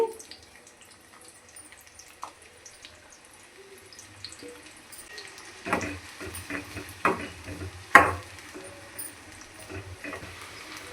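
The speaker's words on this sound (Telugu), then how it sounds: "సన్నగా పొడుగ్గా కట్ చేసుకున్న ఉల్లిగడ్డ ముక్కలు వేసుకొని గోల్డెన్ కలర్ వచ్చిందాక ఫ్రై చేసుకోవాలి" Thinly sliced onions frying in oil left from cooking chicken pakoda. A soft, low sizzle runs underneath, then stirring scrapes and clinks come in bursts during the second half.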